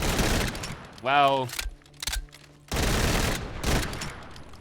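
Akimbo Desert Eagle .50 AE pistols fire automatically in Fallout 4 in two loud, rapid bursts of heavy shots, with a short spoken word and a quiet gap between them.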